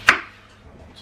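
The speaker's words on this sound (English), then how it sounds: "just chopping up the tomatoes, the little baby tomatoes" A kitchen knife chops through small baby tomatoes for a quiche, one sharp close tap against a cutting board that fades quickly into a quiet room.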